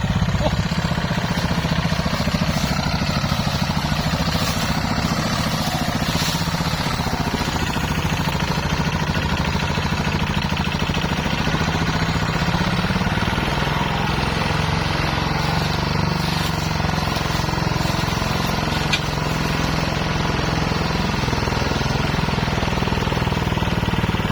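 Kubota ZT155 tractor hauling 13.6 tonnes of sugarcane out of a field, its engine droning steadily and loudly throughout with a continuous rough low rumble and no break.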